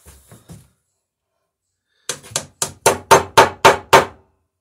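Hammer blows drive a rivet into the wooden frame of a traditional Marblehead sailing dory, down in the bilge: a few light taps, a pause, then about eight sharp, close strikes that quicken and grow louder.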